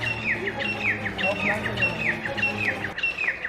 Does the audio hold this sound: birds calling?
yes